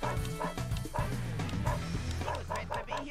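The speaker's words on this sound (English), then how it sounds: "keep barking at him, lure him to the stairs" Dog barking in the video game Dog's Life, repeated yips and bow-wows in quick bursts over game music, fairly loud and close.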